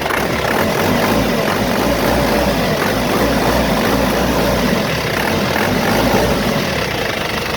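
A car engine runs steadily with a loud, even rumble close to the microphone, unchanging for the whole stretch.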